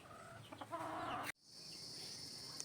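Game chicken on a breeding farm clucking close by in a short burst, cut off abruptly and followed by a steady background hiss.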